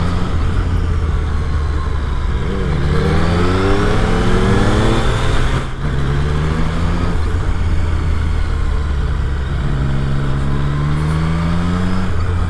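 A Triumph Street Triple RS motorcycle engine drones loudly and steadily through a corner, its pitch sweeping up and down as the rider works the throttle, with a steady engine hum running underneath throughout.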